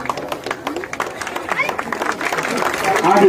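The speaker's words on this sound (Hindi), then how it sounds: "तालियों से" An audience at a gathering breaks into scattered clapping that builds toward fuller applause, mixed with crowd chatter and a voice speaking over it.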